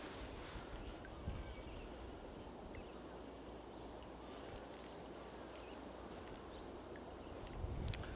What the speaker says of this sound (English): It's a little windy out here for the kayak.